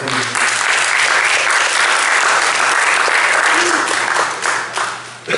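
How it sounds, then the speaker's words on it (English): A crowd of participants applauding themselves in a room, a loud, sustained burst of many hands clapping that holds steady for several seconds before tapering off. "Give yourselves a round of applause"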